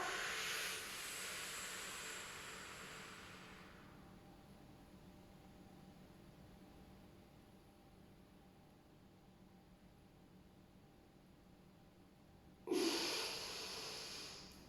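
Slow, steady exhalation during a low-pressure fitness breathing exercise, a soft broadband hiss of breath that fades over several seconds and lingers quietly, with a brief louder breath near the end.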